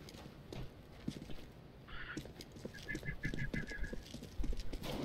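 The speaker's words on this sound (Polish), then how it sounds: "Koń." Horse hooves clip-clop in the CS:GO video game, a quick uneven run of knocks heard at moderate distance over game background noise, with a brief higher tonal chirp partway through.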